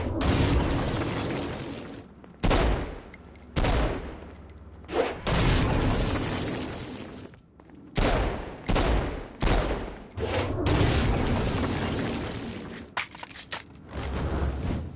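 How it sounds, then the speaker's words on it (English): Stone Blast attacks and gunfire against flying demons in Saints Row: Gat out of Hell, heard as loud repeated booming blasts and rapid bursts of shots in clustered volleys separated by brief pauses. "Stone Blast is especially useful on flying demons like this one."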